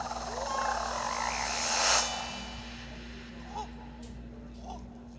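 A frog in the Super Mario Odyssey video game gives a rising, warbling croak, followed by two short, softer croaks against a steady background hum.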